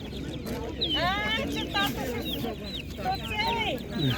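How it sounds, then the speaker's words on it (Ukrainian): Muscovy ducklings peeping and chirping in a busy cluster at a market, high sweeping calls over a murmuring background with voices. "Каченята, мускусна качка."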